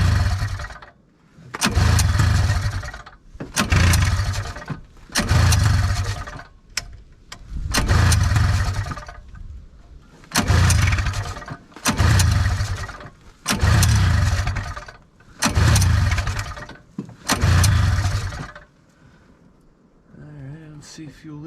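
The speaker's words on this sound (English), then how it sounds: "It's going to take a couple pulls because we have to get fuel down into the bowl here." Arctic Cat Panther snowmobile with a new Mikuni carburetor being pull-started, about nine loud, close rope pulls in a steady rhythm, each a whooshing surge of cranking, then a brief quieter rumble at the end.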